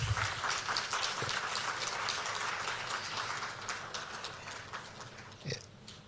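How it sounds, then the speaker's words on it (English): A crowd applauds at a presidential swearing-in of security service heads. The clapping is faint and distant and continues steadily under a low background hum in a large room. "A round of applause, please."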